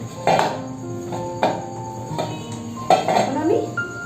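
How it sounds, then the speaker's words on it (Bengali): A knife cuts kneaded dough into pieces for potato-stuffed paratha with sharp clinks and knocks against a plate or board, three or four distinct hits over a low background, and a voice briefly heard. "এবার আমি এটাকে কুচি কেটে নেব"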